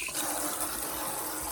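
Warm water running from a tap over a paintbrush being rinsed clean of paint, a steady, close hiss of flowing water with no pauses or speech.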